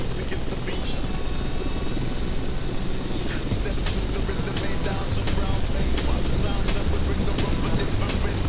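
A helicopter carrying a slingload in Microsoft Flight Simulator X makes a dense, steady rotor and engine roar with a rapid chopping pulse, loud and continuous, with talking over it.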